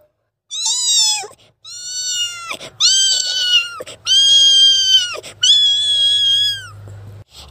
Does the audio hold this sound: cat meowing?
yes